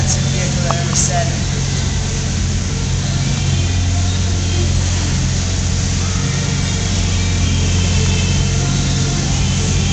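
A Lamborghini Gallardo idles close by, its engine giving a steady, unbroken low rumble with a broad hiss above it for the full length.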